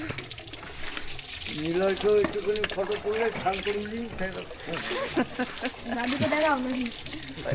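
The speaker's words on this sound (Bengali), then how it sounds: "তো এখন রাতের বেলা বাইকটাকে ধোবো, প্রচুর নোংরা হয়ে গেছে।" Running water splashes steadily while a dirty motorbike is washed outdoors at night, a constant hiss that continues under nearby conversation.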